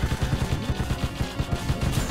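Sniper gunfire in the video game Payday 2: a steady run of low, thudding shots repeating every fraction of a second, close and loud, with no talking.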